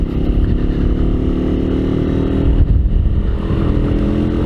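A Kuba Cheetah 180R motorcycle engine drones steadily and loudly while riding, with a continuous low rumble and a brief dip in pitch partway through, plus constant wind noise.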